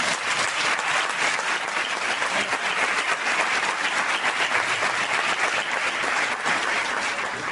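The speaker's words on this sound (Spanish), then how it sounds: "vamos a dar un fuerte aplauso a los invitados" A large audience applauds guests at a Spanish-language stand-up comedy show, a dense, steady roar of clapping lasting throughout at full volume with no talk over it.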